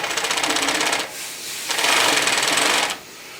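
An NC TPB carpet binding machine stitches binding tape onto a carpet edge, running in two loud, rapid mechanical bursts with a short pause between them, close and without talk.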